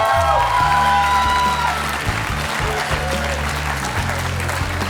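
Studio audience at a Georgian singing talent show bursts into sustained applause and a few cheers, steady and full over loud background music.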